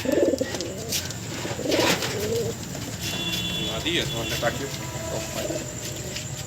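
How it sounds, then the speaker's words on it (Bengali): Pigeons kept for sale, including a male with a fancy tail, coo softly in low repeated phrases, mixed with other bird calls and a person talking nearby. "আর এই একটা পায়রা সেলের জন্য আছে"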